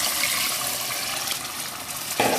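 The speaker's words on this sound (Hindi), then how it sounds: "अब जो आप जितना इसमें शोरबा रखना चाहिए उस हिसाब से आपने इसमें वाटर ऐड कर देना है।" Water is poured into a pot of cooking mutton paya, a steady close gush of liquid for a couple of seconds ending with a brighter splash, with no talking.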